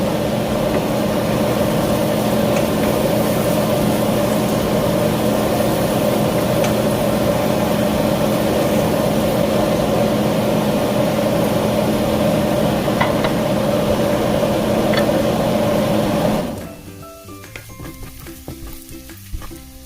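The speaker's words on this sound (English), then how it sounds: "it's noisy because I turned on the exhaust fan" A steady droning kitchen exhaust fan hum with a busy hiss of garlic sizzling on top, running continuously before dropping away abruptly near the end.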